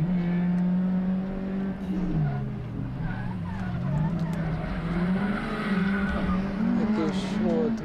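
A Renault Clio Sport or Renault Twingo RX S1600 rally car engine drones and revs up and down continuously, at times spinning up oddly, with tire squeal and sliding noises, loud and close throughout.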